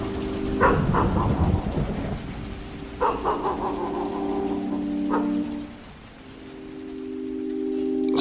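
Rain-and-thunder sound effect for a radio horror drama: a steady hiss of rain with low rumbling thunder swells, a bright tonal hum entering midway, no talking.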